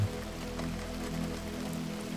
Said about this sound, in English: just as the rain began to fall harder